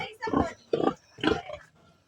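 A pig on a farm in Mindanao gives three loud, close grunts in quick succession followed by a softer fourth.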